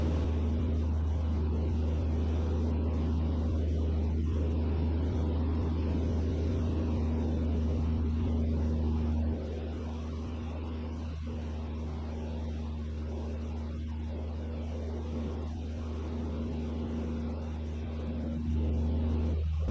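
A steady, droning engine note from an RV6 light aircraft cruising eastbound at 7,500 feet, continuous and close with a constant hum and broadband wind roar, dipping slightly in level partway through.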